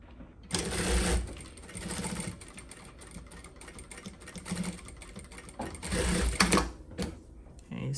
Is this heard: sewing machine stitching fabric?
yes